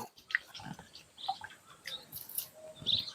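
Scattered bird chirps and tweets ring out outdoors at moderate distance, short bright calls spaced irregularly over low rustling and faint background noise.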